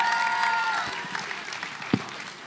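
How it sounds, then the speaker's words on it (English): An audience at a high school spoken word poetry competition claps for a poet, a steady wash of applause filling the room with a faint tonal hum underneath. "Applaud your poet,"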